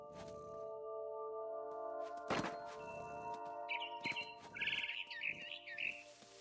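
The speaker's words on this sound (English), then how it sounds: "I tried to be quiet, but the bird was really scared." Bird chirping in the video game What Remains of Edith Finch, a few quick bright tweets in the second half over a soft ambient game soundtrack, preceded by a sharp crack.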